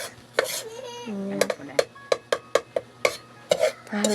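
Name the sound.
stirring food in a cooking pot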